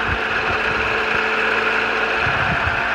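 A 2001 Honda CR-V with 155,000 miles idles at a slightly high speed, a steady close hum with a faint mechanical tick running unbroken throughout.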